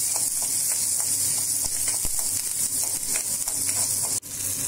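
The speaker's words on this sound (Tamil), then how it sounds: "அதே கடாயில் எண்ணெய் சேர்த்து நம்ம வச்சுருந்த சின்ன வெங்காயத்தை சேர்த்து பூண்டும் சேர்த்துக்கிறோம்" Shallots and garlic fry in oil in a kadai with a steady, close, loud sizzle. A few faint stirring clicks sound over it, and no one speaks.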